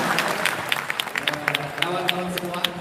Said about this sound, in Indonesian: Terima kasih semuanya, tepuk tangan.